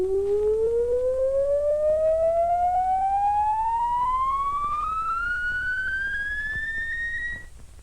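Pure electronic tone from an audio oscillator signal generator on a loudspeaker, sweeping steadily upward in pitch for about seven seconds with faint harmonics, then fading abruptly.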